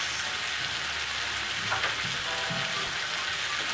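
Meat and vegetables with salt frying in a pan while being stirred, a steady loud broadband sizzle with a few scraping stir sounds, no talking.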